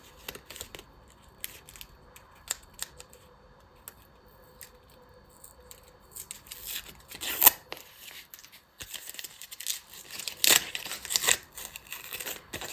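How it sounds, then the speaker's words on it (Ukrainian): Crinkly paper rustling and tearing close by, sporadic at first, then denser crackling bursts as a small paper surprise packet is ripped open; no talking. "Відкриваємо пакетик."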